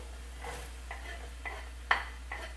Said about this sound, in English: it is now time to saute our onions